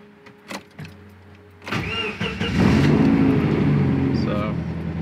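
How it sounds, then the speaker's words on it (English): A car engine cranks and catches after a few quiet knocks, then settles into a steady, loud idle close by, running during a test of whether hood vents help. "I'm gonna start the car up"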